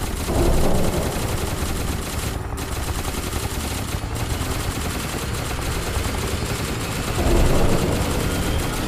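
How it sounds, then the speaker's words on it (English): A high-intensity discharge turret in the video game SCP Containment Breach fires in a loud, unbroken barrage of rapid automatic shots that lasts several seconds with only brief dips. "So that's the HID turret, or High Intensity Discharge."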